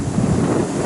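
Choppy sea waves wash in at high tide on a beach near Walton pier, a brief burst of rushing surf mixed with wind buffeting the microphone.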